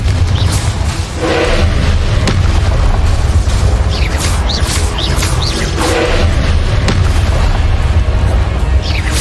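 Loud booming blasts from the Confringo fire spell in the Hogwarts Legacy video game, several heavy explosions rolling over one another with crackling bursts for the whole stretch.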